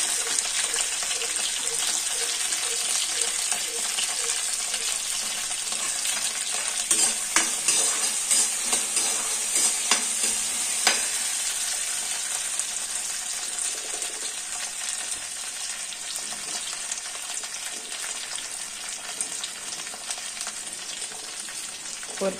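Steady sizzling of shallots frying in hot oil, with occasional stirring scrapes, continuous and close throughout.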